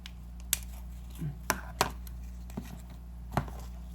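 Scissors snipping paper for an origami paper-craft figure, with about half a dozen short, sharp cuts spaced irregularly over a quiet, steady low hum.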